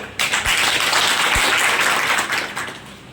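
A crowd at a Muharram gathering breaks into loud, sustained applause to welcome the Manihari local administration, the clapping swelling quickly and holding steady before tapering slightly at the end.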